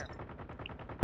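Rapid automatic gunfire in the mobile game Call of Duty Mobile, a fast even stream of shots at moderate distance, ending in a sudden loud close blast.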